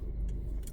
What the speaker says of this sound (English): I have a truck just passing, sorry for the noise